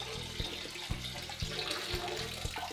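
Liquid pours and splashes while a holiday cocktail is mixed, a steady close watery rush with soft, regular thumps about every half second and no voices.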